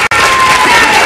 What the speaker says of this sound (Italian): Applausi per le nostre ragazze, per il nostro corpo di ballo.